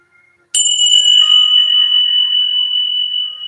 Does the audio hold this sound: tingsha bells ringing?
yes